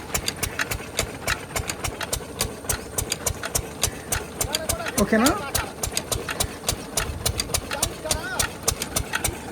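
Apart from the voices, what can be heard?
motor pumping water from a pond into a tanker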